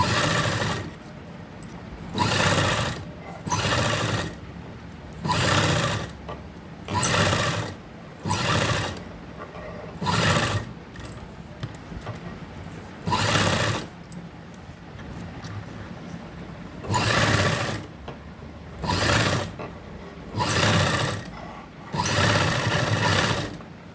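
Sewing machine stitching a kurti, loud close whirring runs of a couple of seconds each, repeated about a dozen times with short pauses between them.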